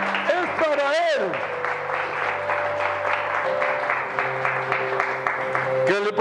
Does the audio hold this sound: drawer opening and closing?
no